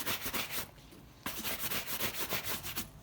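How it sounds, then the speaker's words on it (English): Polish is rubbed into a dog-chewed leather boot with close, rhythmic scrubbing strokes that pause briefly before starting up again, with no voices. "Get a bit of polish on it, and you know, rub it in"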